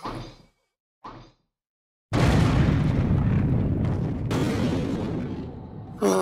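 Two brief muffled thumps, then a loud explosion erupts into a long, roaring rumble that holds steady for several seconds.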